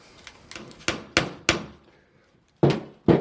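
Hammer blows on a screwdriver driven into a bald cypress root ball to split it, five or six sharp close knocks at irregular intervals with short decays.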